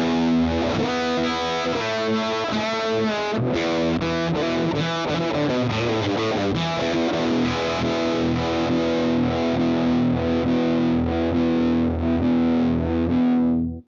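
A loud distorted electric guitar through an OX amp modeler set to match Tone King and Friedman amps plays chords and riffs continuously, thick and saturated with effects, with no talking.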